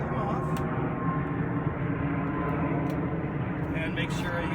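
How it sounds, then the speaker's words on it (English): An airplane passes overhead as a steady, broad engine roar that fills the whole stretch at a moderate level. Soft clicks and small handling noises sit on top of it. "There's an airplane."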